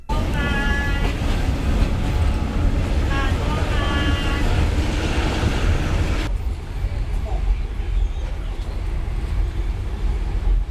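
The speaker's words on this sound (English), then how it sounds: "We take a train and then a boat." A train rumbles along with a loud, steady roar and squealing, whistling tones over the rails, then the sound changes abruptly to a duller hum.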